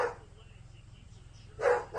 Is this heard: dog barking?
yes